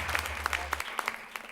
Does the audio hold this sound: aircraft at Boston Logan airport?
no